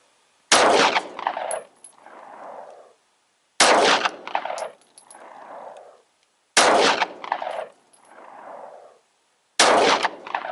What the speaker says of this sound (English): we're going to run 4 rounds through the shield with the Team Never Quit 9mm